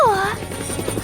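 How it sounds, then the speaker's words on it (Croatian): A helicopter is heard faintly in a short moment: a falling swoosh gives way to a soft, rapid rhythmic chop that continues steadily under a low background hum. "Vidi, helikopter."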